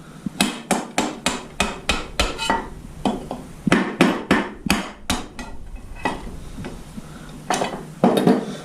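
A hammer pounds the knockouts out of a metal electrical box in rapid runs of sharp, ringing metallic strikes, loud and close, broken by short pauses between bursts.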